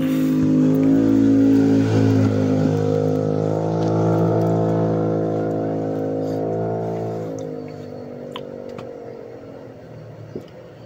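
A motorcycle rides past on a quiet road in La Union with people out walking; its engine hum swells close by, then steadily fades as it moves off, with no talk over it.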